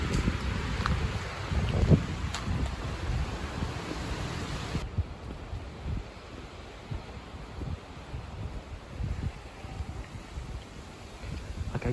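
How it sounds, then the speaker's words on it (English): Strong gusting wind on a residential street buffets the microphone in a loud, rough roar, with leaves rustling. The wind eases somewhat partway through but keeps blowing, and no one speaks. "Even with the wind trying to kill me"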